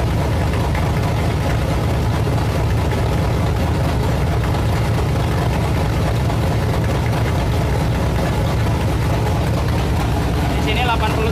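A V8 muscle car engine, a G-Speed prototype built in Indonesia, runs steadily at a warm idle, a loud constant low rumble throughout while someone talks over it.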